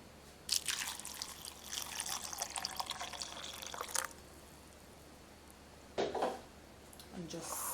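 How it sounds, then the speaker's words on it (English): Water is poured onto a plate of lettuce salad ingredients in a kitchen, with a faint splashing pour lasting several seconds, a shorter burst later, and quiet moments between. "And I'm going to just add some water."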